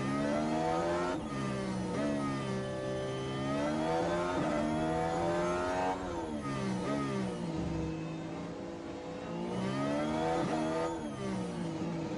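Ferrari Formula 1 car engine in F1 Manager 23, a loud continuous high-revving whine rising and falling through gear changes, with a second car's engine layered in and a brief dip in revs near the end.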